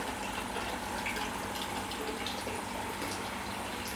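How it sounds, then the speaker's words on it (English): A 12-volt electric water pump runs steadily in a recirculating hydroponic cabbage system, giving a constant, even whir and water rush with no breaks. "that's a 12-volt power water pump"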